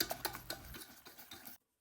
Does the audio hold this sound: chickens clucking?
no